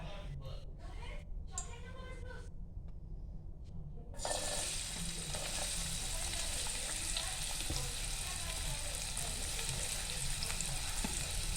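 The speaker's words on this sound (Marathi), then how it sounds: "तेल तापल्यावर आपण त्यात टाकूया कांदा" Onion hits hot oil in a pan, and a loud, steady hissing sizzle starts abruptly after a few seconds of talking and then continues without a break.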